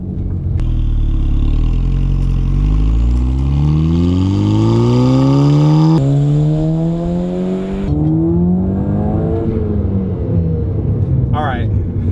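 A cheap casting reel from Amazon whines loudly as line rips off the spool, a continuous rising and falling tonal drone with harmonics sweeping upward in pitch, steady and close throughout.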